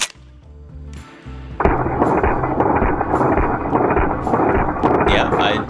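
Rapid semi-automatic shots from an MP5 SD clone, fired as fast as the trigger resets to mimic full auto, come as a loud dense burst of repeated cracks outdoors, preceded by a short lower-level stretch.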